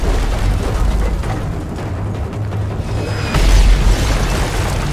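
Mortar fire in the video game Call of Duty Modern Warfare 3 rumbles as deep, booming explosions under constant battle noise, with a heavier blast near the end.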